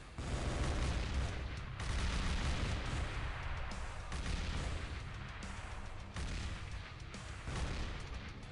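Fire support gunfire in the XPiratez video game, a dense, continuous barrage of loud shots and booms rolling on without pause.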